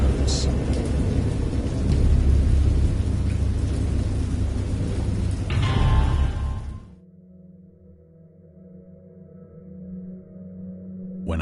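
Heavy rumbling thunder and steady rain from the game Dagon fill the first seven seconds loudly and close, then drop away to a low droning tone with a faint swell near the end.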